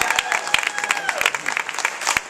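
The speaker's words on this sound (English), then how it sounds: "Hey, give her a round of applause, everybody." A short burst of applause from an audience at an indoor event, with scattered distinct claps mixed with crowd noise and voices.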